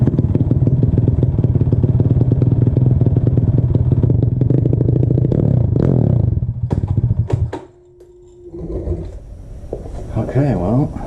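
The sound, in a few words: motorcycle engine idling unevenly with choke off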